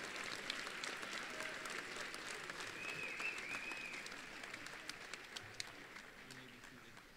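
A graduation audience at the Fox Valley Technical College Winter 2022 commencement claps in a steady, sustained round. The applause is fairly faint and distant, with a dense patter that carries evenly to the end.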